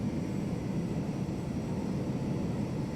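Steady, loud roar of an airliner taking off from runway 22 right, a continuous broad engine rumble with no breaks and no voices.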